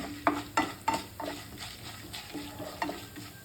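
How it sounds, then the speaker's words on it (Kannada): Lentils fry slowly in oil over a low flame for onion chutney, a faint steady sizzle under repeated spoon scrapes and taps against the pan, about eight strokes in an even rhythm, close and fairly quiet. "ಪ್ರತಿಯೊಂದು ಕಾಳುಗಳು ಕೂಡ ಚೆನ್ನಾಗಿ ಇದು ಎಣ್ಣೆಯಲ್ಲಿ ಫ್ರೈ ಆಗುತ್ತೆ"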